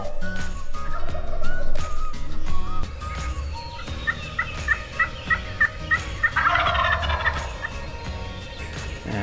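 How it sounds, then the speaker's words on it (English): Several wild turkeys gobbling in Nebraska woods at dawn, with repeated rattling gobbles from birds at different distances, some far off and one nearer burst, over quiet outdoor ambience. "there was several turkeys gobbling"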